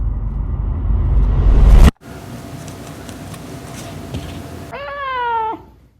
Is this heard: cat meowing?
yes